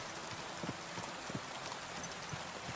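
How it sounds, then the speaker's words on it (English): Steady rain in the medieval game Kingdom Come Deliverance 2, a dense, even hiss of falling drops with a few soft patters, heard alone without voices. "I want this rain in real life."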